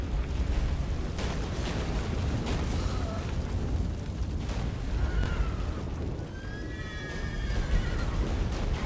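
A horse in The Witcher 3 whinnies with several rising, wavering cries over a constant low rumble of movement and ambient roar, fairly clear over the background; no talking.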